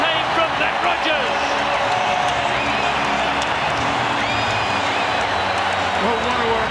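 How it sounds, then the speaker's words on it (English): A large rugby crowd at a Wallabies versus All Blacks Bledisloe Cup match roars and cheers continuously after a try, with a commentator speaking over the din. "Listen to this crowd go off."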